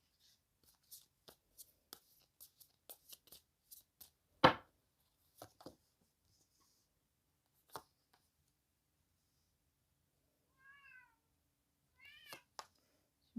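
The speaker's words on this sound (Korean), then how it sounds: "지금 저희 고양이가 마구마구 울고 있습니다." A pet cat just woken from sleep meows in a few short, rising cries toward the end, heard alone amid scattered shuffling and tapping of tarot cards in a quiet indoor room.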